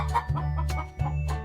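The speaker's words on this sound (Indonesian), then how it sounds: "Ayam Brahma bahasa Inggrisnya Brahma chicken." A Brahma chicken, a large long-legged breed, gives a few short clucks over a steady low hum, close and fairly loud with gaps between the calls.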